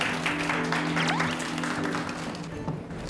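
A studio audience at a televised talk claps to welcome a speaker, a dense wash of applause that holds steady and then eases slightly, with a low tonal hum underneath.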